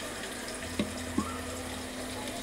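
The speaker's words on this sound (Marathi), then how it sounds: "चिकनमध्ये आपण ह्याच्यामध्ये पाणी टाकूया," Water pours steadily into chicken masala in a cooking pot, a continuous close splashing rush with a couple of brief knocks from the vessel and no talking.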